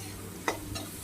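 Sliced vegetables and potato fried with turmeric for homemade desi chow mein are stirred in a pan, giving a soft steady sizzle broken by a few sharp scraping stirs, close and fairly quiet.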